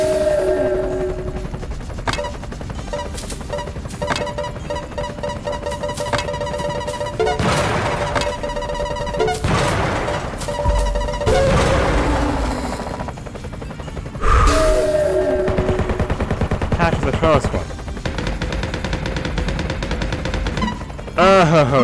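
Dense video game gunfire in Donut County, with rapid bursts and sharp crashes layered over busy game sound effects and music, continuous and loud across the whole stretch.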